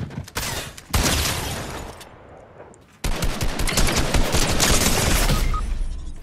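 Rapid automatic gunfire in a video game rattles in dense bursts, pausing briefly before a louder, sustained volley of shots continues to the end.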